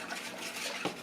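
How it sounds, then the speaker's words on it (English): A whisk stirs lumpy coconut cream pie filling in a pot, making a brief, soft, quiet scraping swish. "I'm whisking this, you know, to get the lumps all out."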